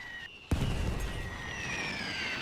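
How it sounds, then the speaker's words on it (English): A sudden artillery explosion bursts out in a World War I strategy game, a sharp boom followed by a sustained rumbling roar with whistling tones. "Their general is dangerously close to some of these explosions."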